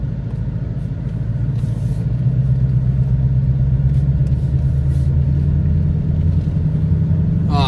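A car with an X-pipe and factory exhaust cruising along, giving a loud, steady low engine rumble and drone that builds slightly early on and holds even throughout, with no talking.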